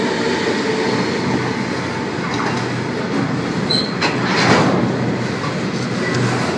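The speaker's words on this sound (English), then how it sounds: "I'm probably not going to film all this freight because, as you can see, it is going very slowly" A freight train crawls through Pennant Hills station, a steady near rumble of wagons with a brief high wheel squeal and a swell of noise partway through, no talk.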